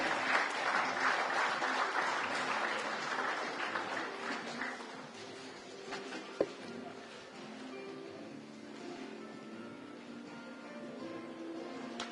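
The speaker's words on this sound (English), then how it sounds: "please put your hands together for the unveiling of the new CMVR" Applause greets the unveiling of the new CMVR at a live-streamed event, loud dense clapping at first that thins and fades over several seconds, with a sharp single knock partway and lingering quieter room noise after.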